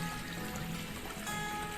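A small natural waterfall in a hillside garden flows in a steady, hissing rush of water, constant and moderately close with no breaks.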